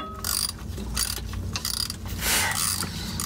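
A bolt is spun loose on the transmission of a 2006 Sprinter during a transmission service, giving continuous close metallic ratcheting clicks with a rhythmic, mechanical pulse throughout.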